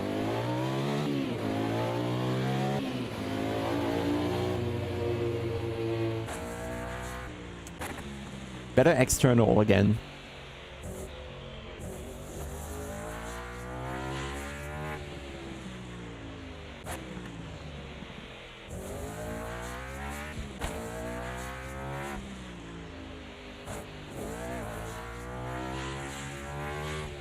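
Five-cylinder race car engine in Automobilista 2 droning steadily at high revs through a lap, with shifting pitch sweeps and a brief louder burst, running under continuous conversational talk.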